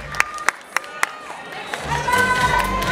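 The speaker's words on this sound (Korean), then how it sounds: "뜨거운 박수 부탁드립니다" Applause from the audience for the judges at a Mr. YMCA bodybuilding contest: a few sharp, spaced claps at first, then a broader swell of clapping and crowd noise over background sound.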